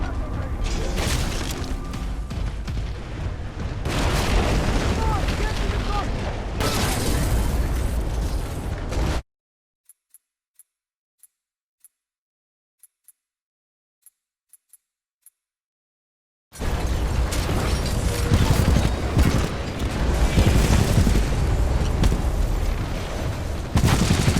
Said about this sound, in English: Detonate charges.